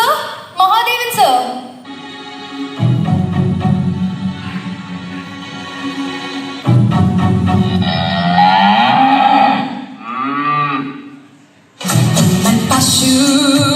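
A person imitates a cow mooing at a public Onam program, giving loud, drawn-out lowing calls one after another, close to the microphone, with short gaps and spoken voices between them.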